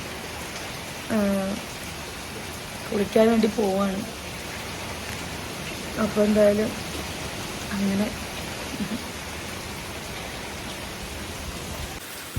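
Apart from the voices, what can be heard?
wind and heavy rain outside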